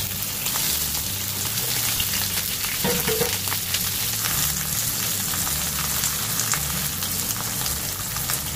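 Thick fried tofu (atsuage) frying in a pan, a dense, steady, close sizzle and crackle of hot oil that runs throughout with no talk.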